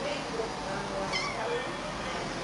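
A cat meows once, briefly, in a quiet room against a steady background hiss, with a person talking softly around it.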